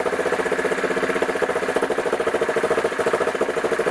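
A Yamaha Wolverine ATV engine idles with the choke partly on, running rich. The loud, close idle holds a steady, fast pulsing throb with no talking.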